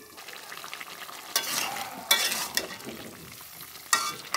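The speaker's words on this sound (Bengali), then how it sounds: "ঢাকনাটা সরিয়ে আমি আলুগুলো একবার নাড়াচাড়া দিয়ে দিতেছি" New potatoes for alur dom are stirred in a hot pan, with a soft frying sizzle underneath and several scraping bursts from the stirring, close and without talk.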